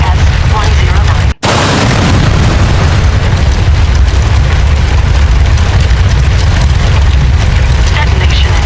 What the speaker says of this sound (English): Detonation in the cryogenics wing.